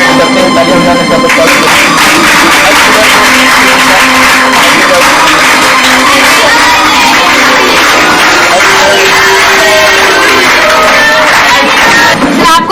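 Classroom of college students applauding and cheering together for a classmate's birthday, a loud sustained wash of clapping and raised voices filling the room throughout.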